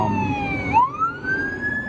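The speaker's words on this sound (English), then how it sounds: "Sirens going crazy." A siren wails loudly nearby, its pitch sliding down, then sweeping back up in a long rising tone over a low traffic rumble.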